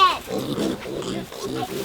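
A mini pig grunts in a short series of low, close, rough bursts, with a brief higher squeal at the start, in an outdoor farm pen.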